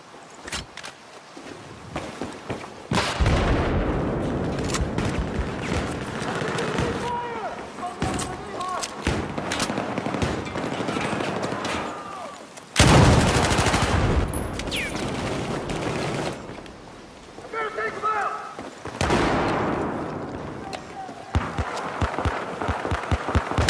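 Heavy bursts of gunfire from a shooter video game, loud and dense, come in repeated volleys across the stretch, with shouting voices mixed in.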